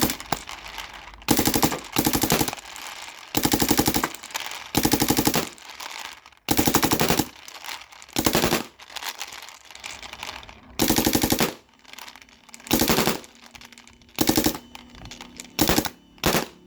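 A Planet Eclipse EMEK 100 paintball marker with a full-auto switch and Speedster loader fires in rapid bursts of popping shots, loud and near, with short gaps between strings of fire.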